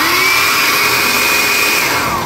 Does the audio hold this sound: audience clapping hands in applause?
no